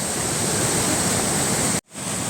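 A waterfall rushes in a continuous loud roar of falling water, heard close and unbroken until a brief sudden dropout near the end before the roar returns.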